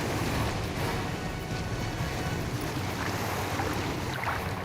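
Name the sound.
motor boat on the sea coming to a stop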